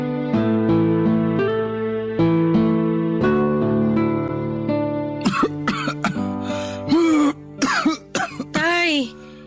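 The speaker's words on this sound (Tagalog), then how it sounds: "Kanina pa talaga ako inaatake ng ubo." Steady, music-like tones fill the first half, then a run of harsh, close coughs and throat clearing breaks out in quick bursts.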